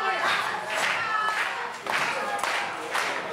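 Wrestling crowd at an RWA event clapping in steady rhythm to rally a struggling wrestler, a dense patter of hands with a commentator talking over it.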